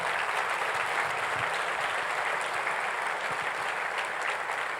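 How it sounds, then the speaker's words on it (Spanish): A church congregation gives welcoming applause for first-time visitors, a steady, full wash of clapping that holds evenly for several seconds without voices. "les damos el aplauso de bienvenida"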